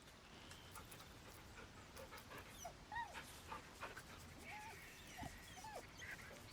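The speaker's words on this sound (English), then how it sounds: "Sure, we'll give the dog a pet." A dog whimpering and panting softly while being petted in Baldur's Gate 3, with short high whines over steady game ambience and a faint hint of voice.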